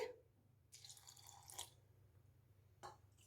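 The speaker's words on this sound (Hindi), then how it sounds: "थोड़ा सा हम ये वाला पानी डाल के" Water is poured into a bowl of soaked fenugreek seeds while making idli and dosa batter, giving brief, faint splashes and trickles in a quiet kitchen.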